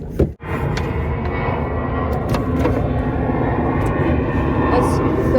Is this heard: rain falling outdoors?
no